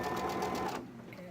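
A sewing machine stitches across the edge of a cotton quilt puzzle block in a short close burst, its motor whirring steadily, then cuts out abruptly partway through.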